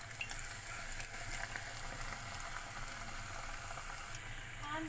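A katori, a chaat cup, fries in hot oil with a steady, even sizzle and bubbling that runs the whole time at moderate loudness, with no one talking over it.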